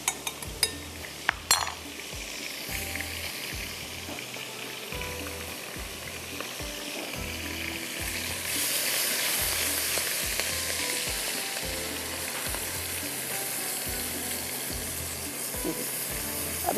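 Tender cooked meat fries in a pot with a yogurt masala, a continuous close sizzle and bubbling with repeated scrapes and clinks of a spoon stirring against the metal, no talking.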